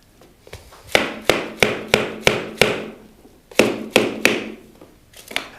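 Imitation-parquet PVC floor plank knocked into place with a tapping block, sharp close taps in two quick runs of about six and four, with brief pauses between.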